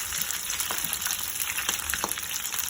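Vegetable spring rolls frying in a pan give a steady, close crackling sizzle with scattered pops and brief scraping taps as they are turned, with no talking.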